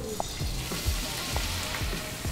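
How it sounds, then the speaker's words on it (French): Green onions in a pan, deglazed with wine while cooking vegan bacon linguini carbonara, give a loud, continuous close hiss with faint crackles and no talk. "On va juste déglacer les oignons verts avec du vin."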